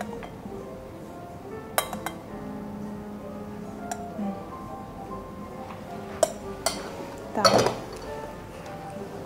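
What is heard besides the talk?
spoon clinking in bowl while folding whipped egg white into cream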